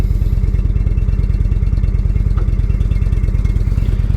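A Suzuki V-Strom 650 motorcycle engine on a test ride, a loud, steady rapid pulsing drone with constant wind rush, close and continuous with no talk.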